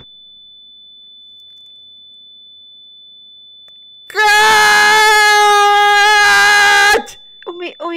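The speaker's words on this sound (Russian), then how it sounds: "это звукосветовая ослепляющая граната!" A stun grenade in a Minecraft game gives a piercing, steady high-pitched ringing tone that bursts in after silence and holds for about three seconds, then cuts off, followed by a brief voice.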